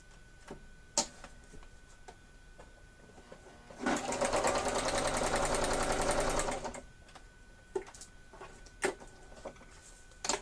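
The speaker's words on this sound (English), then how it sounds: "I am going to just sew real quick up these two seams and make that pocket" Sewing machine running a quick seam on a paper envelope pocket, a steady rapid whir for about three seconds amid quieter handling clicks and taps before and after.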